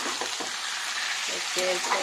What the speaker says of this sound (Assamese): আলুখিনি মাংসখিনি আলুখিনিৰ সৈতে যোগ কৰি ধুনীয়াকৈ লৰাই থাকিম